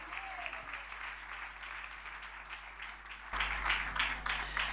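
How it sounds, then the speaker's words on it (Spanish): A church congregation claps in praise during a Spanish-language worship service, steady massed applause that swells louder in the final stretch over a low background hum. "Fuerte ese aplauso de alabanza al Señor."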